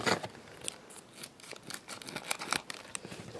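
Scissors snip open a Pokémon Platinum Arceus booster pack with a quick run of sharp cuts and crinkling foil, several close, crisp snips in a row with no talk.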